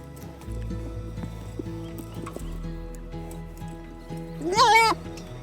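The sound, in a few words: horse moving, hooves clip-clopping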